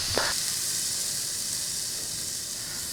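A beef roast sizzles in a hot pan with a steady, bright hiss that stays even throughout, after a brief clatter at the start, and no voices.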